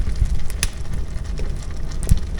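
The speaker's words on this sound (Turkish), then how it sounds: "Şimdi yağmurdan bakmaya gidemiyorum." Steady rain falls at a highland camp, a dense, even patter close by with occasional louder drops, no talking.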